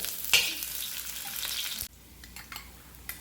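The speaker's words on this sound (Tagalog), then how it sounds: "So, Marie will show us how to saute this." Onion sautés in oil in a pan, giving a bright hissing sizzle with stirring scrapes that drops suddenly partway through, then continues more quietly with small crackles.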